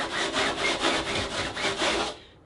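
A 3D-printed sanding block faced with rough sandpaper is drawn along the rail of a foil SUP board, making about eight rhythmic, close rasping strokes that stop abruptly at the end.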